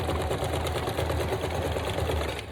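Sewing machine stitching a fabric junk journal cover: a steady, rapid mechanical stitching hum with fast regular pulses, close and continuous throughout, with no talking.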